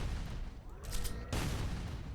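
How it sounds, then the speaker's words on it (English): A charged shotgun in the shooter game Ultrakill sets off a small midair blast, a quiet, brief burst of noise amid steady background game audio. "it's basically just like a mini explosion that you can do"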